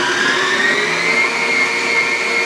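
Electric hand mixer beating plain sugar cookie dough for icebox cookies, a steady close whirring motor drone with a high whine, running continuously without a break.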